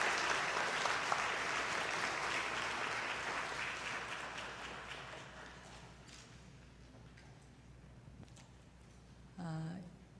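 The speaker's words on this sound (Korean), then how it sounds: "박수로 맞아 주십시오" An audience at a Korean charity orchestra concert claps loudly to welcome a guest on stage, the dense applause gradually thinning and fading, with a brief voice sounding near the end.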